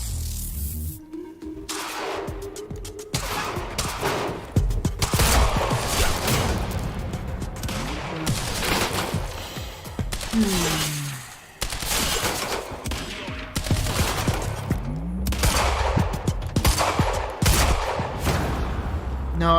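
Sniper fire and other gunfire in the video game Quantum Break crack and rattle in dense, overlapping bursts over a busy combat soundscape. The firing continues throughout at a loud, near level.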